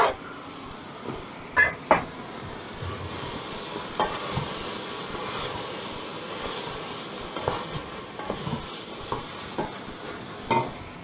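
Vegetables sizzle quietly in a pan while a utensil scrapes and clinks against it every few seconds.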